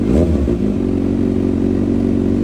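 A Kawasaki ZX25R 250 cc motorcycle engine revs loudly and close by, with a sharp rising rev at the start settling into a steady, high-pitched buzzing drone.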